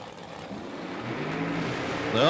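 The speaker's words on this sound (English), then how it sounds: "Oh, man, he's in and out of the throttle." A drag racing car at an outlaw nationals event, its engine roaring loud and broadband, building steadily with a rising rev at the very end, while a commentator talks over it.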